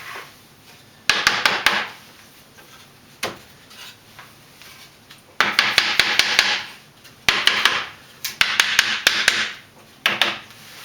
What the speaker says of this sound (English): And this is where the little hammer comes in handy.